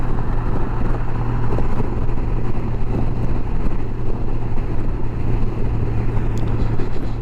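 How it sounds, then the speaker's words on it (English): Steady, loud wind turbulence roars past a rider on a motorcycle in Memorial Day traffic, buffeted by nearby vehicles and a truck ahead, over a continuous low engine drone. "I'm getting turbulence from the vehicles and that truck in front of me."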